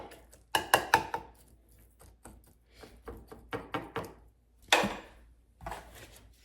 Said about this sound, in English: I like to just poke the meat a bit to get the seasoning